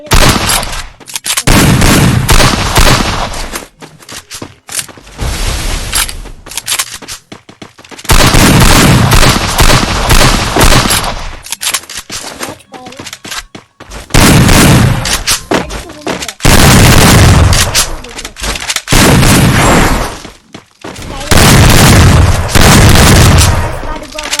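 Double-barrel shotgun fire rings out in a video game, loud booming blasts coming in repeated bursts, with someone talking over the gunfire.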